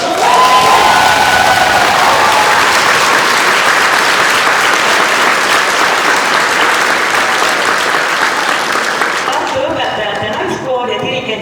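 Loud sustained applause with some cheering from a church concert audience at Tartu Maarja church, dense clapping throughout that fades near the end.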